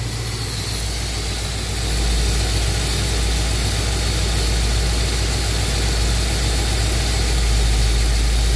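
A car engine fitted with a Holley carburetor on a dual-plane intake idles steadily during idle mixture adjustment, a loud, close, continuous low rumble that grows slightly louder and rougher after about two seconds, with no talking.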